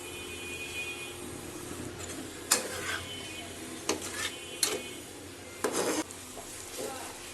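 Goat brain bhuna cooking over medium-low heat gives a low, steady sizzle, with a few sharp scrapes and clinks of a spoon stirring against the pan.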